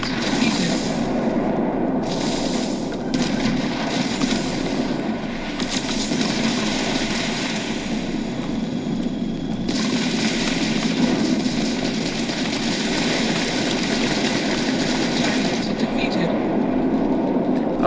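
A spaceship engine in the video game Starfield drones with a continuous low rumble and broadband whoosh throughout, while a voice talks intermittently over it.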